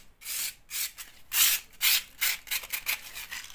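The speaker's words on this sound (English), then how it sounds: "I've got some 180 cloth backed sandpaper. I'm just generally going round now," Hand sanding of an old, repeatedly painted wall with 180-grit cloth-backed sandpaper, a series of close, dry rasping strokes in an uneven back-and-forth rhythm with short pauses between passes.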